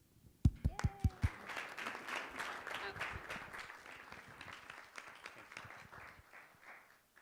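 An audience at a corporate presentation breaks into applause, opening with a few loud individual claps and settling into sustained, moderately dense clapping from a room full of people that slowly tapers off.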